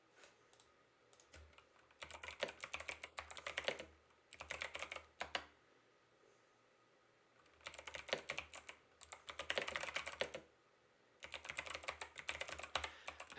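Fingers type on a computer keyboard in short bursts of quick clicking keystrokes, broken by pauses, close by and fairly quiet, with no one talking.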